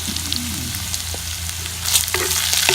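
Wagyu beef burgers sizzle steadily on a Weber Smokey Joe charcoal grill. The frying crackle is close and continuous, with faint pops and a slight surge near the end, and there is no talking.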